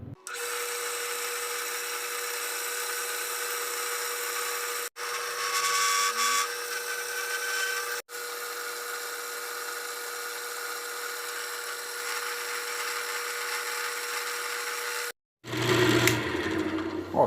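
Electric power tool cutting a slot into a part for access to the crown of a dovetail on a homemade electric scraping machine, a steady high whine broken by short stops, a loud grinding burst at the end.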